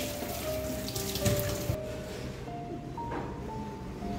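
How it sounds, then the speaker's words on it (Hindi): Running tap water splashes quietly over okra being washed in a kitchen sink, a soft continuous trickle with brief louder splashes as the vegetables are rubbed under the stream. "अच्छे गहरे पानी में, मतलब रनिंग वाटर, मतलब चलते हुए पानी में हमको अच्छे से वॉश करना है"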